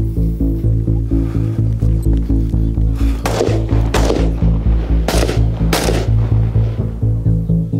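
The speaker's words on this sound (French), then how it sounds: "Coup par coup sur 2 objectifs. Une balle dans chaque bonhomme de ton couloir" Single shots fired at targets on a 25 metre firing range: a few sharp, loud reports spaced a second or two apart over a steady low background rumble.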